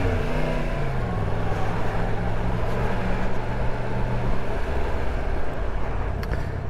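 A 2023 Yamaha MT-10 naked motorcycle filtering through traffic, its engine droning loud and steady with shifting tones and rushing wind throughout, no break in the noise.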